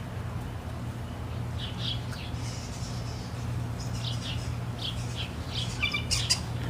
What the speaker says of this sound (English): there's a blue jay